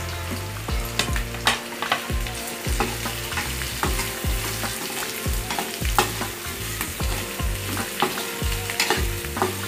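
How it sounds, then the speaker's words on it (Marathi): Onion and capsicum frying in a pan for restaurant-style soybean chilli, a steady close sizzle broken by regular scraping stirs of a spoon against the pan, with no talking. "शिमला मिरची देखील मऊ होईपर्यंत आपल्याला फ्राय करून घ्यायची आहे"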